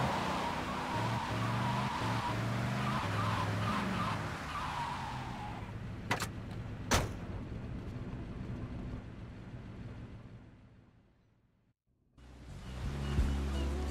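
A car driving in the game GTA Vice City Definitive Edition: a steady engine rumble with road noise, a couple of sharp transient hits, then the sound fades into near silence before the engine roars back.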